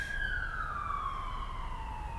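A siren wails steadily, its pitch sliding gradually downward as the vehicle passes, over a low rumbling background with no talking.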